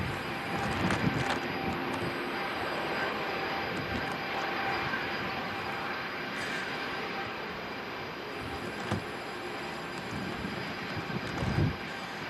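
A British Airways airliner departing Manchester Airport in strong storm winds, a broad steady engine roar mixed with gusty wind buffeting, fairly loud and continuous with occasional thumps of wind on the microphone.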